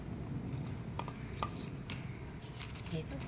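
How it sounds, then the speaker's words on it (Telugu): Homemade Telugu-style mixture snack ingredients, with chilli powder and salt, being tossed together in a kadai, heard as soft metallic clinks and scrapes of a spoon against the pan over a low background. "అన్నీ వేసేసుకొని ఒకసారి మంచిగా కలిపేసుకోవాలి"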